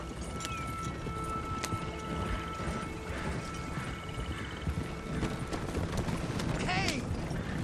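Hooves clip-clopping at a quick, steady gallop from Red Dead Redemption 2, close and loud, with tack rattling and a brief whinny near the end, over a noisy outdoor bed.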